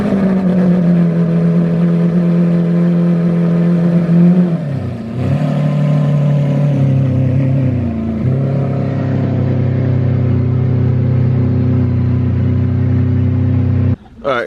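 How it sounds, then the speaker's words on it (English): Lamborghini Aventador supercar engine on a cold start, a loud, close, sustained roar that dips and rises around two brief throttle changes before cutting off near the end. "how about we do the cold start on the Aventador first"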